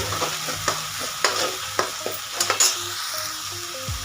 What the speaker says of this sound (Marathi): ही ग्रेव्ही फ्राय करून घ्यायची